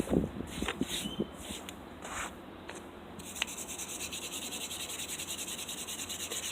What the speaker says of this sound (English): with a wire brush I can do it a lot more easier